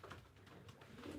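Homing pigeons, both cock birds, coo softly in a loft, their low repeated murmuring calls overlapping in a quiet, steady stream.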